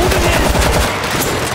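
Rapid automatic gunfire in World War Z during a zombie fight in Tokyo, loud and close with a dense rattling stream of shots that eases slightly toward the end, with a voice speaking over it.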